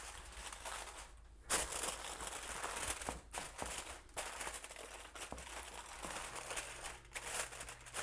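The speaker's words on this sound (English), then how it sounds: "Actually, I'm going to cover with foil first." Aluminium foil crinkles and crumples over a baking dish for a breakfast croissant bake, a close, steady rustle with a few sharper crackles and brief handling pauses.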